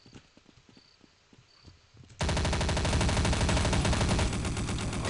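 Counter-Strike: Condition Zero gunfire on the Airstrip map: a few faint, scattered shots and game sounds give way to a sudden loud, sustained burst of rapid automatic fire.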